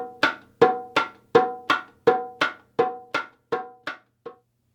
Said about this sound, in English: the most traditional basic pattern for the ukonkolo, the smallest drum in ChachaElekefun